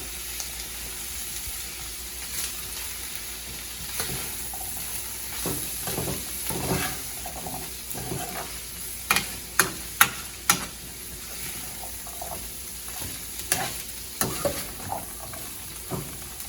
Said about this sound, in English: We're going to go ahead and mix that all in.